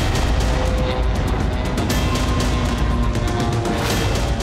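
A missile strike on a car during the Israel–Hezbollah conflict, heard as a dense, continuous roar of blast rumble and crackling debris that stays loud and broadband throughout, with no clear quiet gaps.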